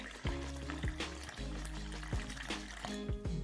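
Water is poured into a well of flour to make hopper batter, producing a close, quiet glugging trickle with a few repeated splashy pulses and no talking.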